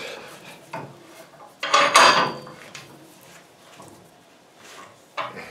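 A steel pipe end is squeezed flat in a stout bench vise, giving scraping, creaking metal sounds with a louder grinding burst in the middle, close and without talk.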